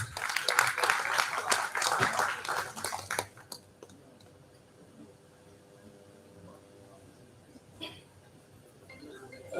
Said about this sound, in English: please welcome Sri Rachappa M. Sardagi with a warm round of applause